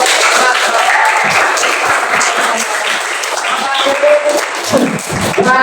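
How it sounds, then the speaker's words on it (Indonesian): Loud, sustained applause from a large crowd, dense and continuous for several seconds, with a voice faintly audible underneath. "Sekali lagi tepuk tangan untuk"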